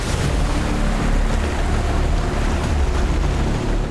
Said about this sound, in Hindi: ये वाटरफॉल बहुत बड़ा है।